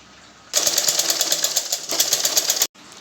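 A sewing machine sews a folded seam on a 42-inch blouse in a single run of about two seconds, rapid regular needle clatter starting and stopping abruptly, close, with quiet room tone before and after.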